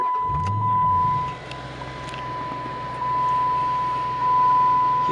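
A 2010 Dodge Challenger with a 6.1-liter Hemi V8 fires up with a push-button start, a loud burst of cranking and revving that settles into a deep, steady idle with a faint chime over it.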